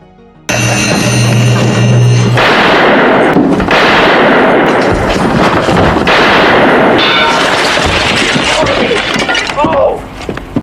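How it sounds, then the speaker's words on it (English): Sharp loud bangs of gunfire burst out amid a chaotic din, several cracks in quick succession over a noisy, dense backdrop. "The sound of gunfire brings the townspeople out of their homes to see what happened."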